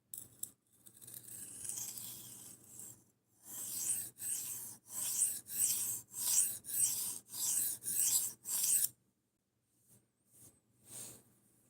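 A big Gerber knife is stroked across a 600 grit sharpening stone to remove the burr. About a dozen rhythmic, raspy strokes run back and forth close up, framed by a few slower passes and short pauses, with no talking.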